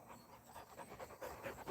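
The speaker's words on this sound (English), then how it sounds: "I hear some dogs" Dogs pant softly nearby in quick, rhythmic breaths, faint and continuous throughout.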